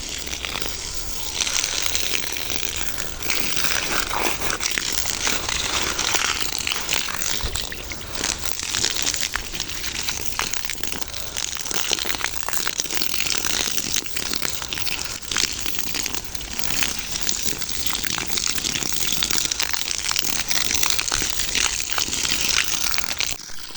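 Water gushes steadily onto fruit trees in a farm orchard, soaking the soil; a continuous, loud, crackly rush of splashing runs unbroken throughout.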